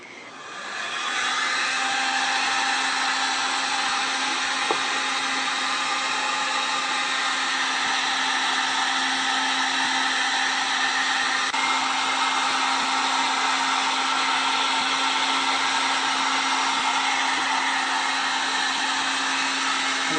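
A hair dryer heating a plastic VW headlight blows with a steady, loud whir and airy hiss, running continuously without voices.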